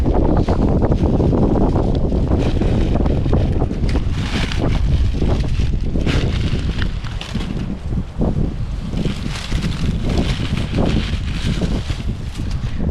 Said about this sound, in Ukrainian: Аж листя летить від цього вітру.